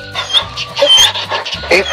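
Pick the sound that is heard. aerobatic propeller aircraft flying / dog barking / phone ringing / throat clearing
dog barking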